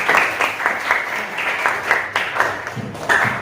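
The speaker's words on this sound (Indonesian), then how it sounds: "tepuk tangan untuk kesimpulannya" A classroom of students applauds briefly, a quick burst of rhythmic hand claps with a faint voice mixed in.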